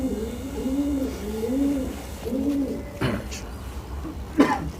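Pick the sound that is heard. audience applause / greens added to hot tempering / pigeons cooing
pigeons cooing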